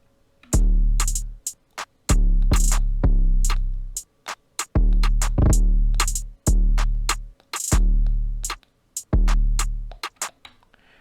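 Full lofi drum pattern in a soulful hip-hop style: deep booming kicks with long tails, sharp snare and hat hits in a loose repeating 1, 2, 3 groove, with no voices.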